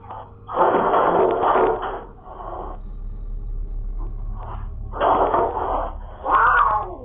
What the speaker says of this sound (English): what looks like an invisible force yanking a cat across the floor